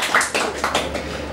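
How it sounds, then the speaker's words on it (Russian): Short burst of applause from an audience for Mikhail Nikolaevich, several quick rounds of clapping over about a second, fairly close and unaccompanied. "это аплодисменты Михаилу Николаевичу"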